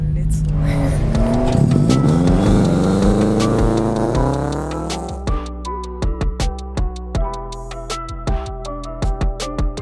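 A race car driven hard around the track at Palm Beach International Raceway, engine revving loud and close with rising pitch, then clipped, rapid repeated bursts as it shifts and brakes into a corner.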